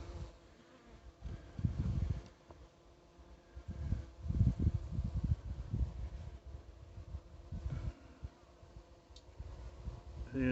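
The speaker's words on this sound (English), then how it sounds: "See, them guard bees aren't really too worried about me," Guard bees buzz near rocks, a close, steady insect drone that swells and fades as the bees fly by, with no talking.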